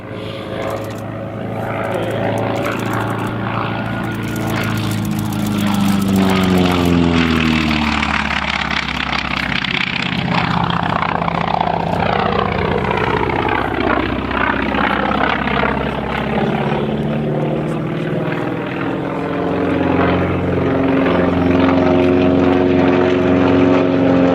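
A Wildcat propeller fighter plane at the Geneseo airshow roars past with a loud, sustained engine drone, rising and falling in pitch as it approaches and recedes, steady for the whole stretch without talk.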